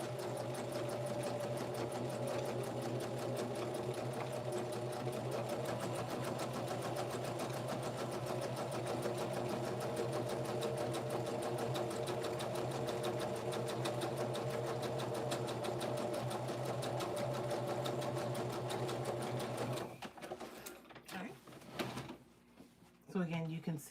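A sewing machine stitches fabric seams in a fast, continuous mechanical whir with rapid needle ticking that runs steadily for about twenty seconds, then stops, leaving scattered handling clicks and knocks.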